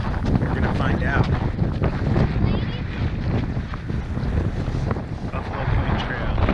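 Strong wind buffets the microphone outdoors on Antelope Island's Buffalo Point Trail, a constant loud roaring rumble with gusty swells filling the whole stretch.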